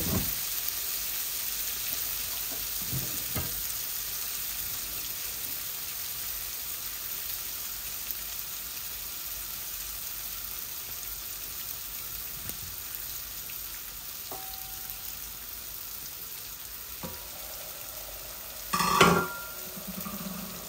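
Oily air fish frying in oil makes a faint, steady sizzle throughout, with a short metallic clank from the pan near the end.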